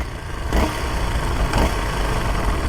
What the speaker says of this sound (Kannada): ಇಂಜಿನ್ ನಾಯ್ಸು ಟ್ಯಾಪೆಟ್ ಸೌಂಡ ಅಂತ